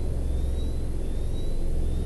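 Thunder in the video game S.T.A.L.K.E.R.: Clear Sky: a steady, deep rolling rumble that fills the whole stretch without a sharp crack, with a faint thin tone drifting above it.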